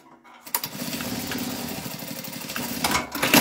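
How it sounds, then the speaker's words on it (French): Sewing machine stitching velcro onto a small pouch, a steady fast mechanical whir with rapid needle ticking that starts after a short pause and runs on close and fairly quiet. "Je vais venir le coudre, mon petit velcro ici par-dessus."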